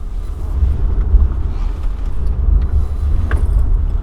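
A 2021 Byton M-Byte electric prototype SUV weaves through a slalom, giving a steady low road rumble of tires and cabin noise with no engine note, fairly loud and unbroken throughout.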